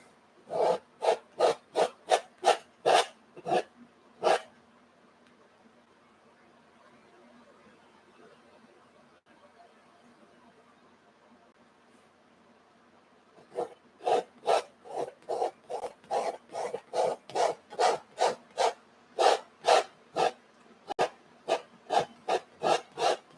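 Paint being scraped off a surface with a tool, in two bursts of loud, rhythmic back-and-forth rasping strokes separated by a quiet pause, up close.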